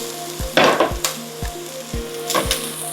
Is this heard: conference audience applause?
no